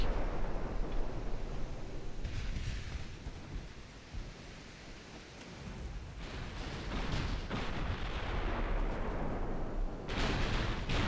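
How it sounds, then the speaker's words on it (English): Main guns of a warship land hits in Ultimate Admiral: Dreadnoughts, a naval battle set in 1910: deep rolling booms and rumbling impacts swell and fade over steady low battle noise, with fresh sharp blasts toward the end. "There go main gun hits on Frederick."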